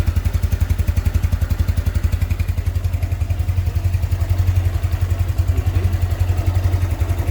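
A 2005 Yamaha Nouvo Z motorcycle idles close by, its engine ticking over in a steady low, even pulse that holds the whole time with a slight metallic clatter and no voices.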